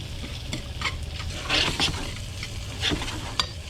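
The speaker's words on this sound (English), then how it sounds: "Start getting that shrimp in there. I'm going to use chopsticks to cook this." Shrimp sizzles steadily in butter and spice in a pan while chopsticks stir and scrape, with several brighter clatters and scrapes through a constant close frying hiss.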